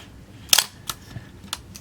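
A Minolta SRT 200 35mm film SLR camera fires its shutter, one sharp, loud mechanical snap followed by a few fainter clicks from the camera body, close up in a quiet room.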